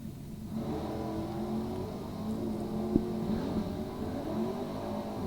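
A 1970 Plymouth Duster and a 1962 Plymouth Sport Fury with a 383 Mopar engine accelerating down a drag strip, a steady distant engine drone heard from afar.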